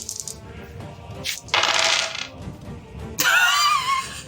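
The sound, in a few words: dice rolled on a table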